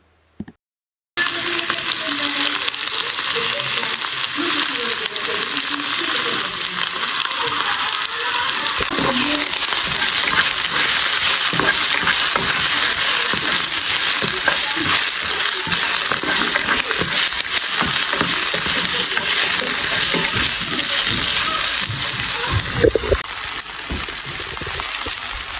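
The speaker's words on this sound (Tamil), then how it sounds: "கொஞ்சமாக எண்ணெய் விட்டு பெருஞ்சீரகம், சின்ன சீரகம், வெட்டி வச்ச வெங்காயத்தையும் அதோட வெட்டி வச்ச பச்சை மிளகாய் எல்லாத்தையும் போட்டு நல்லா அரைப்பதத்தில் வதக்கி எடுக்க போகிறேன்" Onions and green chillies sauté in a little oil with fennel and cumin for a mutton curry, giving a loud, steady, unbroken sizzle with faint crackles throughout and no voices.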